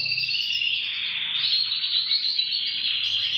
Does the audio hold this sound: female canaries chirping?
yes